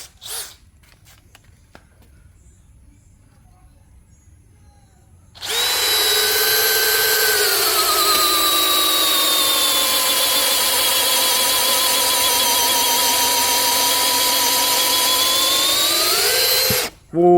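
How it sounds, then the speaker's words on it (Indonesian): DeWalt DCD805 cordless brushless drill on its lowest speed in drilling mode, boring meranti wood with a 19 mm auger bit: after a quiet lead-in, a loud steady motor whine holds for about eleven seconds, then cuts off abruptly. "Menggunakan mata bor Auger 19 mm, kita akan gunakan kecepatan nomor 1 ya."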